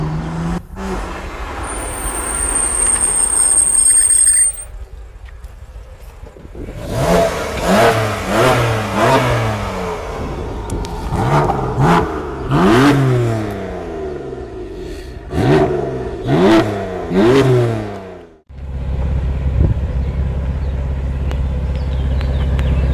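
A BMW M4 F82 accelerates hard, its engine revving up through repeated rising sweeps with gear-change breaks between pulls, loud and close, before settling into a steady roar.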